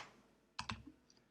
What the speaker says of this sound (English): Some difficult typing.